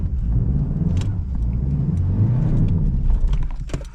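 A car at an auction, checked with a quick clutch test, runs with a low, rough engine rumble that holds fairly loudly for about four seconds and fades slightly at the end, with a few faint clicks on top.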